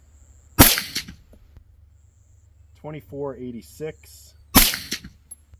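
Two sharp suppressed .223 rifle shots firing Hornady Critical Defense 73gr FTX rounds, several seconds apart, each a loud crack with a short tail, with someone talking briefly between them.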